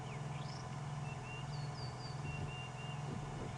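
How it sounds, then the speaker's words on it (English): Thin, clear whistled bird phrases, likely a sabota lark, repeat over a steady low hum in the open bush at sunset on a safari drive, faint and somewhat distant. "Sounds like a sabota lark calling."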